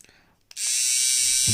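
An electric drill switches on and runs with a high, steady whine and a faint grinding rub, close up, under brief talk.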